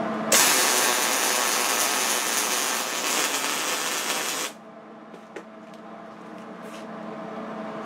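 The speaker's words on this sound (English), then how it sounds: "So let's run a little bead here" Electric welder running a bead, fed on a 240V split-phase circuit, a loud steady crackling hiss that lasts about four seconds and then cuts off abruptly, leaving a quiet background hum with a couple of small clicks.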